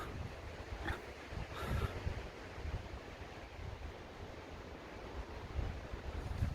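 Strong wind blowing across a mountain summit about 870 m high, a steady roaring rush with buffeting gusts hitting the microphone, continuous and fairly loud throughout.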